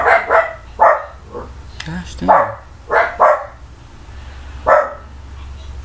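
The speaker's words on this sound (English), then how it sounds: "Gosh dang dogs." Several dogs bark in short bursts, some in quick pairs, from nearby and fairly loud, while a man mutters briefly between the barks.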